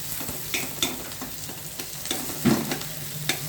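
Bitter gourd pieces frying in a pan with a gentle sizzle, broken by irregular spatula scrapes and taps, one heavier knock near the end, heard up close with no voices.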